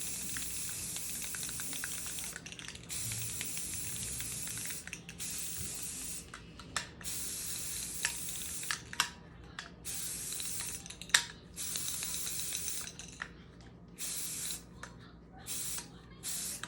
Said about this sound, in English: So just literally spray paint over this.